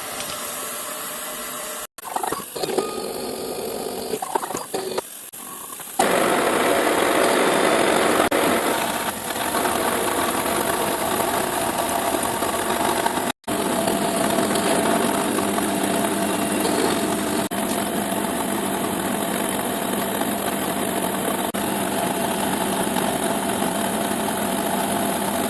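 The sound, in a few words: milling machine cutting an injection mould plate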